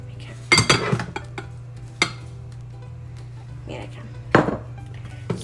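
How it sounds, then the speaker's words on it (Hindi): Vanilla essence and butter get mixed in a bowl for cinnamon bun frosting, with a few sharp clanks and scrapes of a utensil against the bowl separated by quiet gaps, close by. "मैं इसको पहले प्रॉपर्ली इसको ऐसा मिक्स कर लेती हूँ और फिर मैं इसको बीट करूँगी।"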